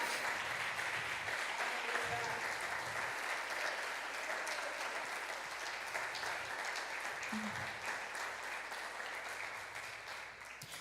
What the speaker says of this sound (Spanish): y eso merece un aplauso.